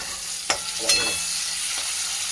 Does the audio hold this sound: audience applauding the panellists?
no